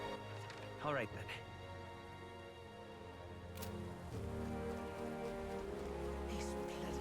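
Steady rain patters in the video game Metaphor ReFantazio, a soft continuous hiss layered under sustained background music.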